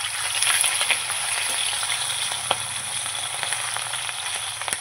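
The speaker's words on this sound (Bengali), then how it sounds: "এই পাবদা মাছ কিন্তু খুব ফাটে, এই জন্য আমি ঢেকে ঢেকে ভাজবো।" Pabda fish frying in oil in a covered pan, a loud, continuous close sizzle with scattered sharp pops and spatters throughout.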